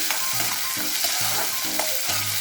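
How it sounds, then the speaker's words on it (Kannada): Onion and cluster beans frying in oil, stirred steadily with a spoon, producing a loud continuous sizzle broken by rhythmic scraping strokes against the pan, close and with no talking. "ಈರುಳ್ಳಿ ನೋಡಿ ಈಗ ಚೌಳಿಕಾಯಿ ಇದ್ದೀನಿ ಚೆನ್ನಾಗಿ ಎಣ್ಣೆಯಲ್ಲಿ ಹುರ್ಕೊಬಿಟ್ಟಿದ್ದೀನಿ"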